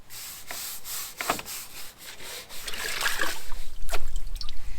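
A mop scrubbing a narrowboat's muddy outside with canal water, giving uneven wet rubbing strokes and soft trickles that grow louder and busier toward the end.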